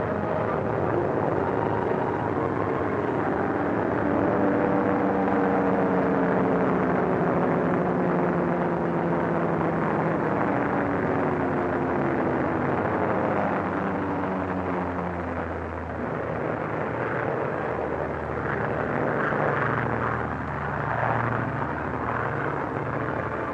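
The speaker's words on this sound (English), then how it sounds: "Bombers went out, and 6 are coming back." Several WWII bombers return and circle an airfield, a loud continuous drone of piston engines with slowly shifting, beating tones that swell and recede over the whole stretch, with no voices.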